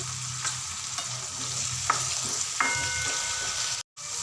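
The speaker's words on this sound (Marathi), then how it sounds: "आता हे वटाणे छान परतून घ्यायची" Green peas and chopped green chillies sautéing in a pan for matar poha, a steady close sizzle with a few scraping stirs of a spoon and a brief dropout near the end, no talk.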